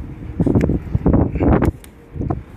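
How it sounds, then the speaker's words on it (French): Strong wind blowing outdoors by the sea, buffeting the microphone in loud, rumbling gusts that rise and fall over a few seconds. "Vous allez supporter le vent pendant quelques minutes pour comprendre."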